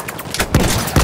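Enemy machine gun fire in Battlefield 1 on the Monte Grappa map during a team deathmatch, a few sharp bursts crackling close by over a constant battlefield din.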